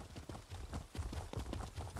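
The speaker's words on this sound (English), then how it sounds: "Look at my horse. My horse is amazing." Rhythmic horse hoof clip-clops from riding a mount in the video game The Elder Scrolls Online, steady and fairly close at a moderate level.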